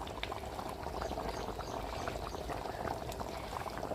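Fish curry bubbling in a pot on the stove gives a steady, close bubbling and popping that runs without a break, loud and busy throughout, with no voices.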